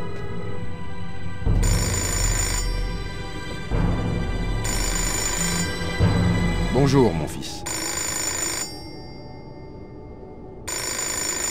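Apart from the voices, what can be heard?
telephone ringing in the video game Fahrenheit: Indigo Prophecy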